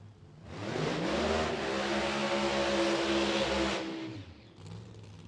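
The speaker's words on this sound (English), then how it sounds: "41 Willys with a 471 cubic inch Hemi for power." A 1941 Willys C/gas drag car powered by a 471 cubic inch Hemi revs up and roars past at a drag strip, a loud sustained engine howl that swells, holds for several seconds, then drops away.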